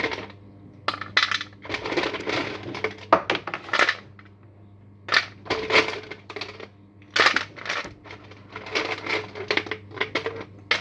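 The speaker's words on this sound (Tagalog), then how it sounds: "Lagyan natin ng ice." Ice cubes are tipped into a blender container of watermelon for a shake, making bursts of clattering, crunching knocks that come in loud irregular clusters with short pauses, close up and with no talking.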